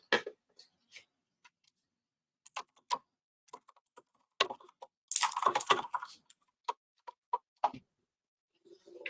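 Typing on a computer keyboard, close and crisp, in uneven bursts of clicky keystrokes with a quick flurry in the middle and scattered single taps around it.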